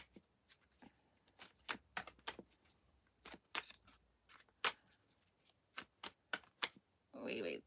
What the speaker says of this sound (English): we'll pull a few cards on Merrick Garland